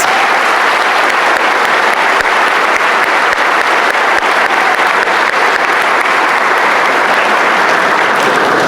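A large crowd at a high school graduation ceremony applauds scholarship recipients, a loud, sustained, dense roar of clapping that holds steady from start to finish.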